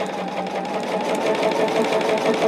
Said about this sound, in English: Once I sew these together, I will press these out